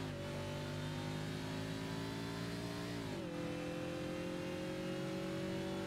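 A race car in the Forza Motorsport video game accelerates with a loud, steady engine drone that dips briefly at a gear change, then climbs again.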